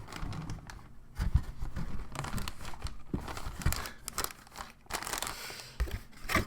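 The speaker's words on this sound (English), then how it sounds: "Yeah, let's open the box." A cardboard Airfix model kit box of a Savoia Marchetti SM79 being opened, with crinkling plastic bags and rustling packaging in irregular bursts, close and fairly quiet, no talking.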